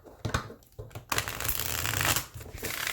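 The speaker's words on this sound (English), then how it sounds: "It riffle shuffles beautifully." A matte-finish cardstock playing card deck is riffle shuffled up close, a few quick taps and splits giving way to a long crisp fluttering cascade as the cards interleave, then a soft bridge at the end.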